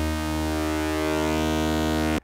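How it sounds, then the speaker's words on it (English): A sustained Pro Tools virtual synthesizer tone, made buzzy and harmonic-rich by its drive knob distortion, holds steady and loud for about two seconds before cutting off abruptly. "There is a drive knob to add some odd harmonics,"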